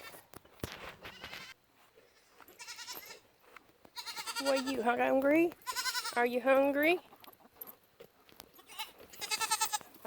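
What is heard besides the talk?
baby goats bleating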